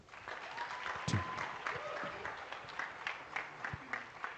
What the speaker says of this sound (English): Let's give it a big round of applause, ladies and gentlemen, to our fellows.